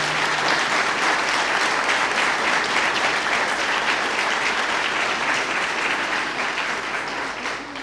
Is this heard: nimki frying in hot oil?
no